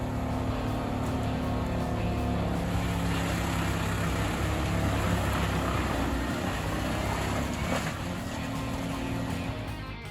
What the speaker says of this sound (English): The OP Urjo 993 wood chipper, mounted on a Volvo FH16 truck, is a formidable force in wood processing operations.